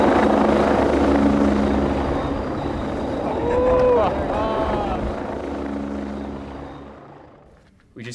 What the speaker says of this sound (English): We just got into a helicopter.